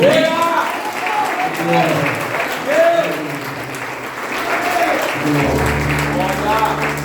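A church congregation at a Sunday worship service clapping together, loud sustained applause with a voice speaking and singing over it, low music entering near the end.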